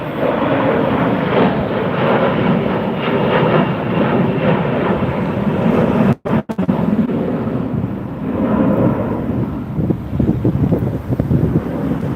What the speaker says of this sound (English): He aborted the landing at the last second there.